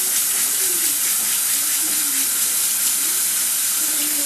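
Hot water runs steadily from a kitchen tap in a bread-making setting, a constant loud hiss and splash that fills the moment without pause.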